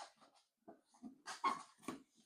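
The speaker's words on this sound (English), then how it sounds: "That's my dog trying to chase the little robin" A dog whimpers and whines in short, faint bursts with breathy gaps, close by and otherwise quiet.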